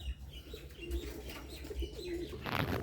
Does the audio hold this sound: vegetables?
no